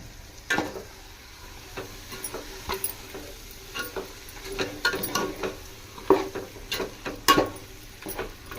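Mutton pieces are stirred in a pot for biryani, with irregular scrapes and knocks of a spoon against the metal over a low sizzle, the strokes coming close and unevenly spaced.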